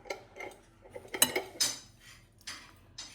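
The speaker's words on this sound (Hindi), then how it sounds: "इसको हम बहुत अच्छे से मिक्स कर लेंगे तमाम इंग्रेडिएंट्स को" A spoon clinks and scrapes against a metal bowl while flaxseed ladoo ingredients, dry fruits and cardamom powder are mixed, giving a handful of irregular close taps and scrapes, fairly quiet with no voices.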